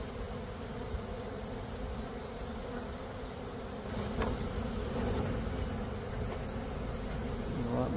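A honeybee swarm gathered at a hive box in a garden apiary drones with a steady, dense buzz as workers fan at the entrance, growing slightly louder partway through, with no talk.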